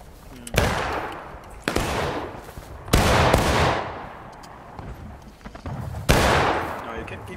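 Gunfire in a video game: several sharp, loud shots, each with a decaying tail, come at uneven intervals under occasional talk among players.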